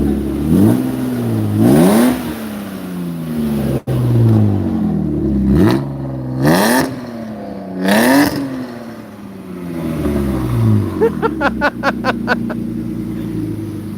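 A car engine revs repeatedly through a loud exhaust at a performance shop, several sharp rising blips with popping and crackling near the end, close by.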